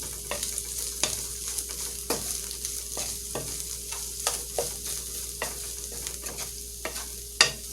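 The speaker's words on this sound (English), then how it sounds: "I'm going to give it a nice mixing." Seasoned beef empanada filling stirred in a sizzling pan, with repeated scraping strokes of a spoon over a steady frying hiss and no talking.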